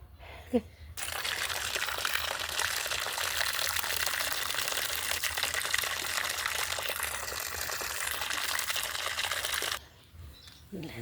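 Water runs and splashes steadily for several seconds as freshly harvested produce is washed, close and continuous, then stops abruptly near the end.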